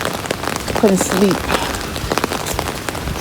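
Steady rain patters on the ground outdoors, a dense hiss of drops, while someone talks briefly over it.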